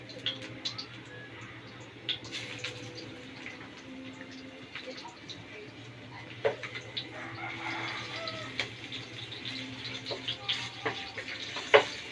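Garlic sautéing in a pan while cooking shrimp with mung beans, a faint steady sizzle with occasional small clinks and scrapes, under a constant low hum and some quiet talk.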